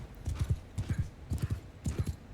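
Galloping horses charge during a Mount & Blade II Bannerlord battle, a rapid, repeated thudding clip-clop in quick clustered beats, fairly close and steady throughout.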